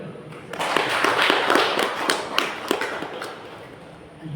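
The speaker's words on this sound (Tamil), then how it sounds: "கைத்தட்டு." Rhythmic hand clapping keeping time with Tamil devotional singing, a steady run of sharp claps over a dense, reverberant backdrop of voices.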